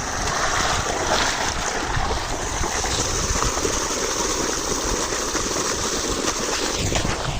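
Water gushes steadily and loudly from a motor pump pipe at a farm well, a constant rushing roar with no pauses.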